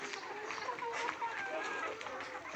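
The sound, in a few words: gavran (desi) chickens clucking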